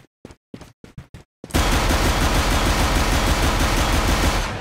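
A FAMAS rifle in Counter-Strike fires a few short, separate taps, then a long unbroken spray of rapid automatic shots, loud and close, with no talk over it.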